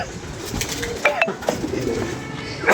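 Pigeons in a loft coo softly and close by, with brief clinks and rustles around them and no talk.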